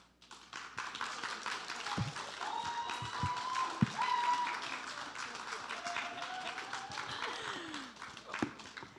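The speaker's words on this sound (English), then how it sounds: "Let's give him another round of applause." An audience at a youth climate conference in the Bahamas applauds after a presentation, a sustained wash of clapping that swells, holds and slowly tapers, heard from within the room with scattered voices mixed in.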